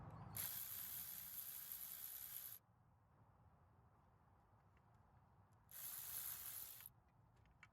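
A ratchet working on the idler pulley of a Jaguar X300 engine, with two loud sustained bursts of rapid clicking separated by a quieter stretch, close and alone without talk.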